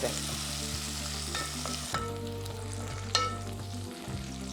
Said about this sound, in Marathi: कांदा चांगलाच मऊ होईपर्यंत परतून आहे